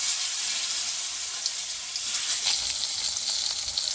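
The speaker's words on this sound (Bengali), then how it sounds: "বেগুন ভাজা করে নেই" Slices of brinjal fry in a pan in a home kitchen with a continuous, even sizzle at moderate loudness. Faint stirring sounds run through it and no one speaks.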